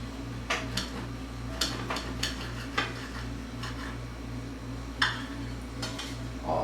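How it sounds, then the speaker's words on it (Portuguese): Knife sawing through a loaf of warm, freshly baked homemade wholemeal bread, with soft repeated scraping strokes at a steady rhythm, close and quiet. "Então eu vou cortar para nós vermos como é que ele ficou."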